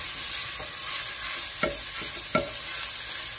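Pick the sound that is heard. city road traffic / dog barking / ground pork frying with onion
ground pork frying with onion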